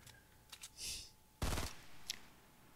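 Gunfire in Fortnite, a few short bursts of clicks and shots, one loud blast near the middle, heard up close in a quiet soft-spoken gaming setting.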